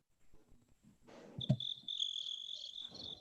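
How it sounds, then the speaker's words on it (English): Cricket chirping kicks in after a soft thump: a steady, high, shrill trill that runs unbroken to the end over faint background rustle. "Do the crickets."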